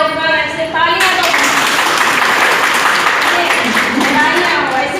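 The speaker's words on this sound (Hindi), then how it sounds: "चलिए, इनको बधाई दीजिए, ताली बजाइए।" A crowd at a Women's Day event applauds a judge in a loud, steady burst of clapping that follows a brief voice and carries on to the end.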